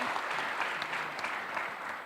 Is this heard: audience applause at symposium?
yes